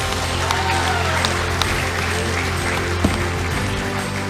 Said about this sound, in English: give a big round of applause for our top 10 finalists